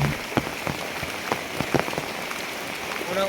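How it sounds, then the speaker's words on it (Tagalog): Heavy rain pours onto a hard surface in a steady, dense hiss, with scattered sharper drop impacts throughout and a faint tonal sound entering near the end. "Kay ulan namang gyud, kusog kayo ang ulan"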